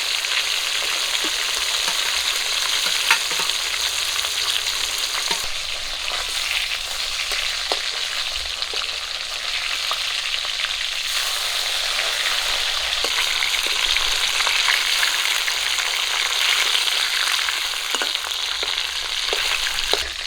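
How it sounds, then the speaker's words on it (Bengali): Pieces of rohu fish frying in hot oil, a loud, steady sizzle with dense crackling that runs unbroken from start to finish, close up and with no voices. "বাকি মাছগুলো আমি একই রকম করে ভেজে নেবো"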